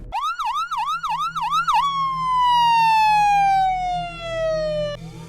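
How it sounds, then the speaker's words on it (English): An emergency siren wails, first in a fast rising-falling yelp, then shifting to a long steady tone that slowly drops in pitch, loud and close. "The game changed the night the sirens pierced the symphony of the city."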